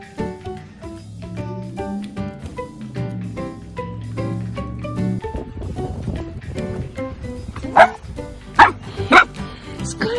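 Golden retriever puppy barking in short sharp yips late in the clip, several quick loud bursts following a stretch of steady music-like background tones.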